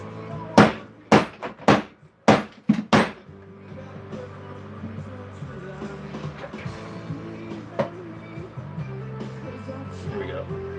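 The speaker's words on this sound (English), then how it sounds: "This thing's whacking the shit out of metal." A hammer strikes a metal coin being shaped into a ring, giving about six sharp, loud, ringing blows in quick succession at the start, then a duller clatter and murmuring talk in the background.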